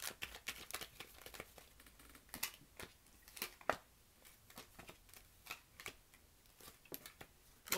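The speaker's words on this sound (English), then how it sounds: "And let's lay these cards out." Tarot cards being dealt out one after another, a string of quiet papery snaps and slaps at an irregular rhythm, close by and alone.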